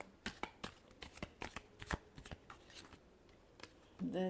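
A deck of tarot cards being shuffled up close, a quick series of crisp riffling flicks and slaps, quiet and uneven, ending with a brief voice at the end.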